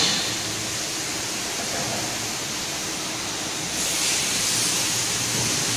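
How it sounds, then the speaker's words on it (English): A high-pressure stream of water gushes from special equipment, a loud, steady broadband rush that holds for the whole span and swells slightly near the end. "The water's coming out so fast that it will hurt anyone that gets hit by the stream while airborne."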